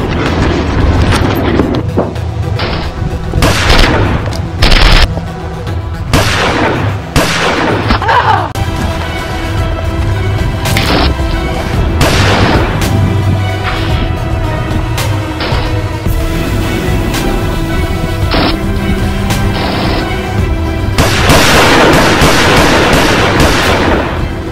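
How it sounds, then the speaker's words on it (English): Heavy covering gunfire erupts in a steady barrage of loud, close bursts and booming shots, layered over one another with hardly a pause, and a voice breaks in briefly amid the din. "Give us some cover fire."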